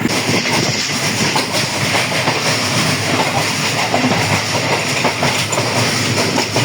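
Pakistan Railways' Sir Syed Express travels through rain on the Gujrat to Rawalpindi run, a loud, continuous onboard rumble of rolling wheels with steady clickety-clack over the rails.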